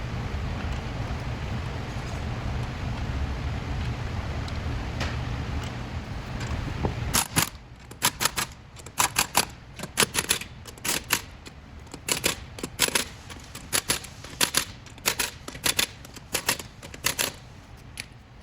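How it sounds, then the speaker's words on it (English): Lug nuts being tightened onto a Ford F150 wheel, a run of sharp metallic clicks and ratchet-like snaps in irregular bursts after a steadier rumbling stretch, close and fairly quiet with no talking. "We're going to put all the lugs back on now and tighten them up."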